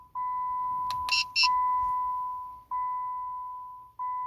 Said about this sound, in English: you hear the beeping sound indicating programming is successful